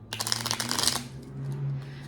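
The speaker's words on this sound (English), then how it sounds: "let's just one more shuffle and then we're gonna do your cards" Tarot cards are shuffled in a quick, close riffling burst of about a second, followed by a quiet low hum.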